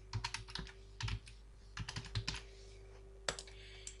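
Computer keyboard typing, close and fairly quiet, in irregular bursts of quick key clicks separated by short pauses, ending with a sharper final keystroke.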